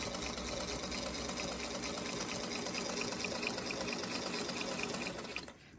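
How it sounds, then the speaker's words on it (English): A sewing machine stitches along a marked line on quilting fabric, its motor whirring in a fast, continuous rattle that runs steadily and then stops just before the end. "So then I go around and I'm sewing directly on the line here."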